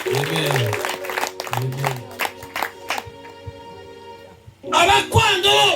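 A church congregation claps and cheers in praise during a sermon in Gikagati, Uganda, with a mix of applause, voices and singing-like calls swelling again loudly near the end.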